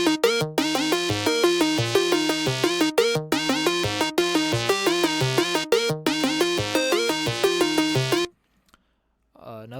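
A repetitive pk-style beat loop of busy, bright synth plucks plays in steady bursts with brief gaps, then cuts off abruptly near the end, leaving near silence with a faint trailing sound. No voices are heard.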